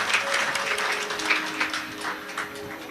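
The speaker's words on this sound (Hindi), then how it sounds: "एक बार इन सभी के लिए जोरदार ताली बजाकर स्वागत" An audience claps to welcome the hosts at a live Shiv Mahapuran katha religious gathering during Navratri. The applause is steady and moderately loud, with a faint tonal hum beneath it.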